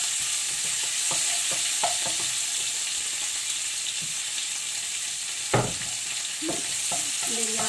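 Menudo sizzling steadily in a pan as tomato goes in, with scattered stirring scrapes and clacks of a utensil, one sharper knock midway, close and continuous without talk.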